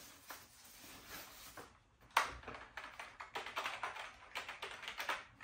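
Quiet, rapid clicking of keys being typed on an LED computer keyboard, coming in uneven bursts with short pauses, close by and with no talking.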